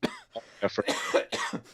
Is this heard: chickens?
no